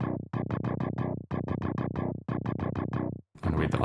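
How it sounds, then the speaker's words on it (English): An 80s-style DX7 bass synth preset from Analog Lab plays a rhythmic run of short, punchy repeated notes in groups, loud and dry, with no voices. "it's just like this 80s bass sound"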